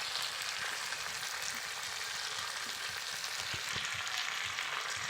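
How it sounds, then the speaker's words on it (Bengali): Potatoes with garlic and spices frying in a pan while being stirred, making a steady, close, dense sizzle that runs continuously with no voices. "এর মধ্যে ভেজে রাখা আলুগুলোকে দিয়ে দেবো, দিয়ে একটু ভালো করে নাড়াচাড়া করে নেব"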